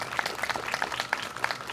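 Audience claps for students at a 5th grade awards ceremony, an uneven spread of individual hand claps with a few sharp close ones standing out, moderately quiet and steady throughout.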